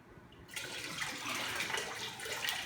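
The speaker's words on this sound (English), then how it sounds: "if I fill up my cup with this water, what do you think is going to happen?" Water is poured from above into a cup until it overflows, a soft steady splashing trickle that starts suddenly and continues at low volume.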